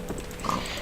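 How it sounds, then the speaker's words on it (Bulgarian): Minecraft pig giving a short grunt in the middle of faint game background noise, a brief single oink against low ambient hum. "И да убием това прасенце."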